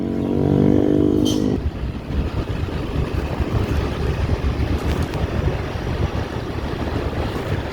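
Steady road and engine rumble heard from inside a moving vehicle in busy traffic on the road from Solok toward Pariaman in West Sumatra, with a brief louder engine drone at the start, then a continuous wash of passing traffic noise.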